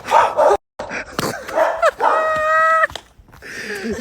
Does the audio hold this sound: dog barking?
yes